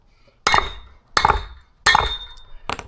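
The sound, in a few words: hammering wheel studs out of hub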